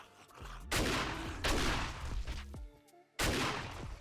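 Shotgun blasts in the survival game 7 Days To Die, three loud booming shots spaced about a second apart, each a sharp broadband burst with a ringing tail, with quieter game clatter between them.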